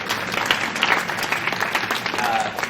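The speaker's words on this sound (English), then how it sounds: "Round of applause." A conference audience at a public-private partnerships session claps briefly, a short steady patter of applause with some murmuring.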